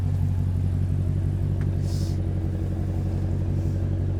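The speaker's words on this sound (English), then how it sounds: "Listen how quiet this thing is in idle." A Hemi-swapped, body-swapped Dodge idles with a steady, low, even engine rumble, quiet and muffled and close by, with no revving.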